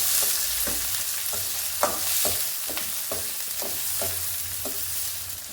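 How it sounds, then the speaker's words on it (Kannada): Chopped onions sizzle in hot tempering oil, a constant frying hiss broken by regular scraping strokes of a spoon stirring in the pan. "2-3 ನಿಮಿಷ ಆಗುತ್ತೆ ಇದು ಈರುಳ್ಳಿ ಬೇಯೋದಕ್ಕೆ"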